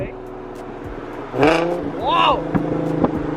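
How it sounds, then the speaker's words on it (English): Passing car downshifting and accelerating away nearby, engine note rising sharply in a couple of quick revving bursts over a steady idling hum, with people talking throughout. "Oh, she's downshifting away."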